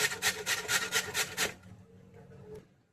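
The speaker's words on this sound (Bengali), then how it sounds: "এইবার গ্রেটারের বড় জায়গা দিয়ে মানে বড় ফাঁক দিয়ে আমি এটাকে ঘষে নেবো।" Peeled potatoes grated on the large holes of a hand grater for a quick tiffin snack, a run of about seven rhythmic rasping strokes, close and fairly loud, then stopping.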